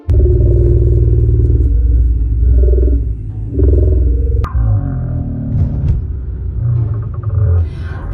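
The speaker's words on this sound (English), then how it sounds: "weird radio sounds coming through people's car radios" A strange, deep growling rumble comes through car radios in New Jersey, loud and close, swelling in long roaring stretches broken by a sharp crack and brief dips.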